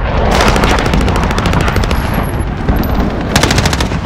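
Sustained AK-47 automatic fire in Modern Warfare, with loud, rapid, continuous bursts up close and a brief lull before the firing picks up again.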